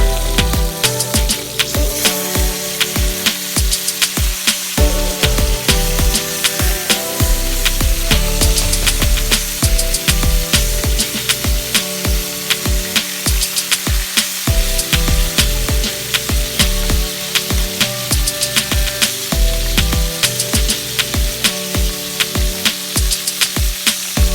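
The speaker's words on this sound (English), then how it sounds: "So here I'm just finished frying off the rest of the fish" Loud, continuous sizzling of fish frying in hot oil, with dense crackling and occasional clinks and scrapes, close by and without any voices.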